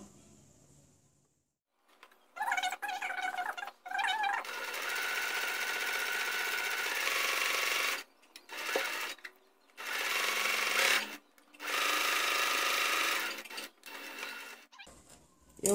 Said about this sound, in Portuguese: Vou marcar o meio e vou passar uma costura reta em toda essa bordinha aqui